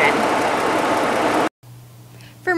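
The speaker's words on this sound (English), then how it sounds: "Under the hood is a V6." A 2019 Ford F-150 pickup's 3.3-liter V6 engine idles with a steady, loud rumble up close, then abruptly drops to a quieter low hum after a brief cut.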